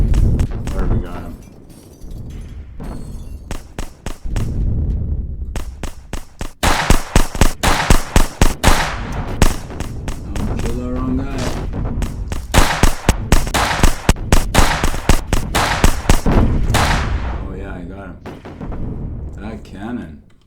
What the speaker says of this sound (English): Cannon. That's hitting far.